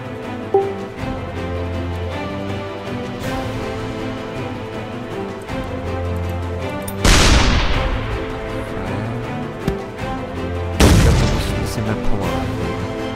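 Two heavy booming blasts from artillery in ShellShock Live, each followed by a rumbling decay, over a steady background of game sounds and music.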